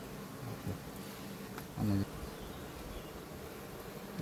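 A honeybee colony buzzes at the hive after leaving swarming mode, a steady droning hum of many bees close by, with a brief louder thump partway through.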